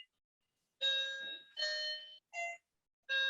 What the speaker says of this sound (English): Disregard my doorbell going off in the background